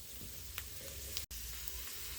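Ingredients for tamarind rice sizzle quietly in a hot pan, a soft continuous crackle with occasional stirring scrapes.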